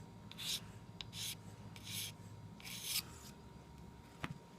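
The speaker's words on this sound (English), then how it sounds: "flip it back over and do the same on the other side, very lightly. And just deburring." Light deburring strokes of a knife edge along a KME convexing rod, four soft raspy rubs spaced about a second apart, close and quiet, followed by a faint brief click.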